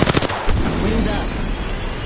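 Gunfire in a combat video game bursts out loudly in a rapid automatic rattle, followed by a dense continuous roar of shooting and explosions, close and intense throughout.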